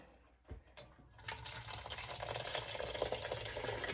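Homemade cream cheese mixture poured from a pot into a cloth, a steady close liquid pour and splash that swells after a couple of soft knocks and continues to the end.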